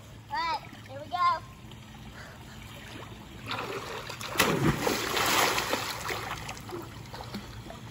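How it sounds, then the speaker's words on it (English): Children jump into a backyard pool, sending up a broad burst of splashing and churning water that fades to lapping and dripping, with children's voices heard briefly beforehand. "Yeah, you got some big splashes."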